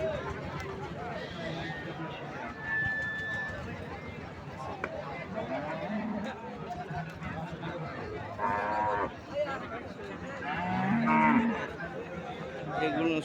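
Cattle lowing at a sparse cattle market (haat) around Eid, with several moos rising over a steady hubbub of crowd chatter and people talking nearby.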